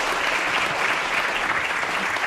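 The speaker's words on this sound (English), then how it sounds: "Don't applause yet, we haven't" Audience at a trombone ensemble recital applauding, a dense, even wash of clapping from a full hall that holds steady throughout.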